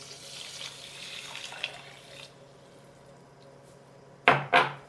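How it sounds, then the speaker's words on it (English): Two cups of water poured into a pot of dry quinoa on a kitchen stove, a soft running pour for about two seconds, then two sharp clinks of a pot or utensil. "And then 2 cups water."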